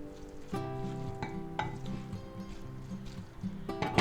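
Noodles are tossed and stirred with a teaspoon of oil in a bowl for a pork lo mein stir-fry, giving soft wet squishing and utensil scraping with a few light clinks against the bowl, steady and close.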